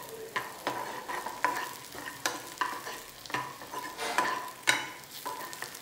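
Mutton being stir-fried with whole slit green chillies for Guntur mutton fry, with repeated stirring scrapes and clinks of a spatula in the pan over a steady sizzle, close and moderately loud with no talking.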